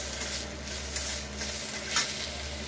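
Garam masala and salt sizzle and fry in a pan for an aloo paneer dish, with a steady close hiss and a few soft scraping stirs, no voices.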